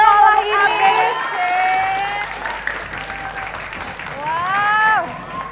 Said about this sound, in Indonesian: Coba sekali lagi tepuk tangannya mana